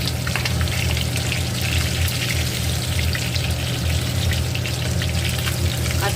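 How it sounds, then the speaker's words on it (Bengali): Mrigal fish pieces deep-frying in hot oil give a steady, close sizzle with dense crackling and spitting pops throughout, loud and continuous with a low hum beneath and no talking. "আমি বাকি যে মাছগুলো আছে সেগুলো কিন্তু একইভাবে আমি ডিপ ফ্রাই করে নেব"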